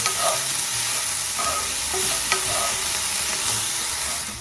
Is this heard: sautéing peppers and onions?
yes